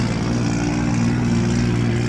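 A Nissan S14 with a swapped-in 2JZ engine idles steadily nearby, a loud continuous low rumble with a strong even hum and no revving.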